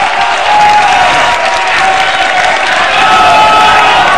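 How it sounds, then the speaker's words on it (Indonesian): Loud, dense applause from a large audience cheering supporters at an evening political debate, sustained and even throughout, with crowd noise mixed in. "Tepuk tangan untuk para pendukung yang bersemangat malam hari ini"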